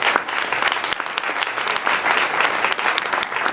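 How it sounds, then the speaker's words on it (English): Audience applause fills a legislative town hall focused on LGBT issues, a steady dense clatter of many hands clapping throughout, close and fairly loud with no pauses. "She deserves a round of applause."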